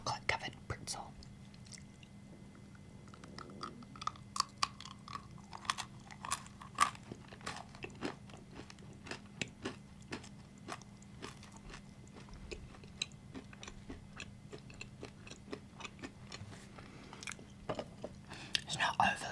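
Close-miked ASMR mukbang crunching of a chocolate-covered pretzel: repeated crisp bites and steady chewing clicks over about twenty quiet seconds, with faint soft whispery breaths in the background.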